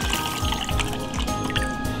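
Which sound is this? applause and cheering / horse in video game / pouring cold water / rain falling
pouring cold water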